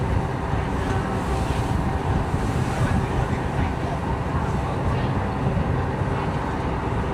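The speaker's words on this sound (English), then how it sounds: "It's a little bit windy." Steady wind rushes and buffets the microphone at the Princess Cays cruise port in the Bahamas, a continuous low roar throughout with no clear speech.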